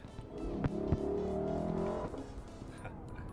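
A Lexus LC500's 5-litre V8 engine in sport mode roars and revs while downshifting, its pitch shifting with each gear change, with a brief tire squeal and a loud, steady rumble throughout.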